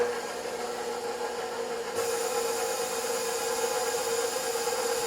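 A KitchenAid stand mixer on speed setting 2 kneads soft pretzel dough with yeast, sugar and salt, giving a steady close motor whine and hum that steps up in level about two seconds in, then runs on evenly.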